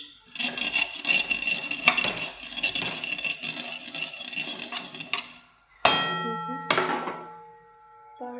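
A ladle scrapes and clinks against a hot pan as mustard seeds heat in mustard oil for a mixed fried vegetable dish, a steady close metallic stirring with sharper clangs near the end.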